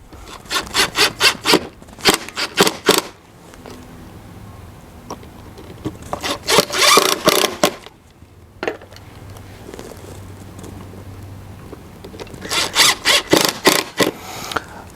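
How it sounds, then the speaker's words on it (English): Screws are driven by hand into a metal mount for a Eufy Solocam S40 solar security camera. Close, rhythmic bursts of scraping and grinding come in several runs with short pauses between them, and no voices are heard. "we've got all 3 screws in"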